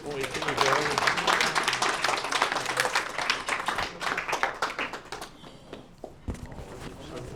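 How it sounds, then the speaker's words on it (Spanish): A lecture audience applauds with dense, steady clapping that gradually thins out and fades toward the end. "Pido un aplauso para ellos."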